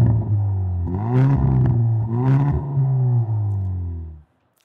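A Hyundai i30 N hot hatch engine revs up twice in a row with a deep, loud roar close by, each rev rising and falling before the engine cuts off abruptly near the end. No one is talking.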